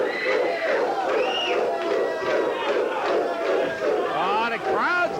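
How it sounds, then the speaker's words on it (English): Loud, dense wrestling crowd cheering and yelling throughout a 1985 Memphis TV wrestling match, with shouts and whistles rising over a steady roar of the arena. "Oh, the crowd's getting into it"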